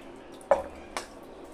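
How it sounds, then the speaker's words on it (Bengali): Raw mangoes, firmed up after soaking in limewater, are rinsed in clean water, giving two short separate splashes or sloshes about half a second apart in a quiet room. "তো এবার আমি পরিষ্কার করে আমগুলোকে জল পাল্টে পাল্টে ধুয়ে নিব।"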